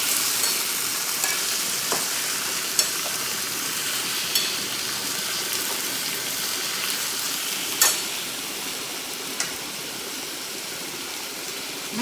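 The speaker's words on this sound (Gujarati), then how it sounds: "આને તેલમાં સડવા દેવાની છે" Potato chips frying in oil in a home kitchen, a dense, constant loud sizzle with a few sharp pops and clicks scattered through, close up and with no voices.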